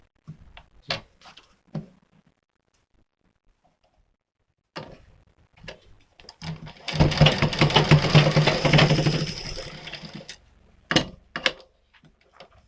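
A sewing machine stitches a Katori cut blouse in one steady run of about three seconds, close and clear, framed by scattered handling clicks and near-silence.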